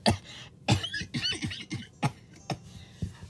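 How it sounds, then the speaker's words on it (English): A series of dry, raspy coughs close by, coming in uneven bursts with brief gaps between them. "still coughing from last episode"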